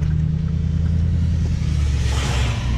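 Steady low rumble of a car driving along a storm-damaged highway beneath a downed power line, with constant close road and engine drone and a rising hiss of wind or tire noise toward the end.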